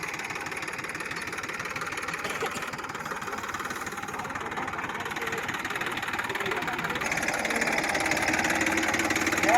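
A Massey Ferguson 1035 tractor engine runs steadily in a field where loaded grass-hauling tractors are stuck, a continuous mid-low drone that swells slightly louder toward the end.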